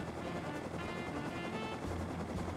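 A helicopter in the survival game Rust drones steadily and loudly with a continuous rotor wash and no gaps.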